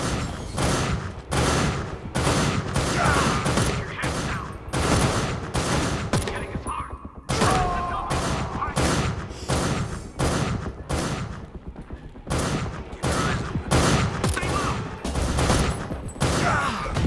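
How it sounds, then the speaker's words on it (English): Gunfire in the Lovecraftian survival first-person shooter Beneath: a dense, loud fusillade of rapid shots with brief pauses, continuing almost without break across the whole stretch. "2 point blank shots to the face."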